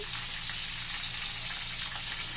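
Steady, dense sizzling of yellowfin fish frying in hot oil, a continuous crackling hiss close by with no talking.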